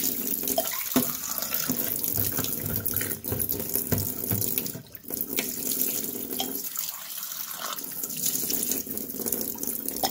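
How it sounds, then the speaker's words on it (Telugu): A kitchen tap runs steadily while dried dates are rinsed under it, making a continuous splashing and trickling rush with small shifts as hands move through the stream. "మనం శుభ్రంగా కడిగేసేసి కొన్ని మూడు సార్లు శుభ్రంగా కడగాలి."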